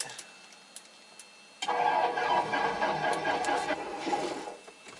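A light aircraft engine equipped with a G1000 cockpit cranks and catches, settling into a steady mid-pitched running drone after a few quiet clicks and switch sounds.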